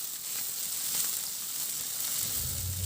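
Onion and tomato frying in a pan, with a steady close sizzle and hiss and a faint stir of the spoon near the end, no voices.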